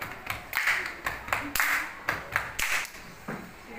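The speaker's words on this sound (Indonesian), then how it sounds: "tangan kanan ke atas, tangan kiri ke atas, tepukan dada" A class of students slaps their chests in unison during a chanted classroom cheer, a series of sharp, evenly spaced slaps about every half second, close and fairly loud with faint voices behind.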